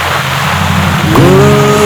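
Steady rain hisses loudly and continuously on a film set, with a low sustained tone underneath and a brighter rising tone entering near the end; no voices are heard.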